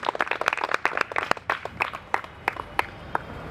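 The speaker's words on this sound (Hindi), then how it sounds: "ताली बजा सकते हो" Scattered audience clapping at a motivational event for blind people, a loose patter of individual claps that thins out toward the end, close and moderately loud.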